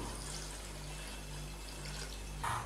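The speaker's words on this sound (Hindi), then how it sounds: "तो अभी मैं इसके अंदर आधा किलो के करीब पानी डालूंगा, तकरीबन 2 गिलास।" Water is poured into a pot of browned beef for aloo gosht, a steady soft splashing stream that swells briefly louder near the end.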